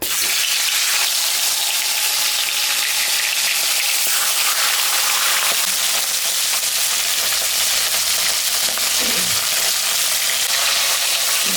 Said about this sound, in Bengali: এখন মাছটা আমি ভাজবো